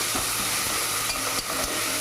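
Ginger garlic paste fries loudly in a pan for a spicy cabbage pilaf, giving a continuous close sizzle broken by brief scraping strokes as it is stirred, with no talking.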